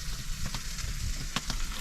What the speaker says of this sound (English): she's never tried seal meat before, like fried like this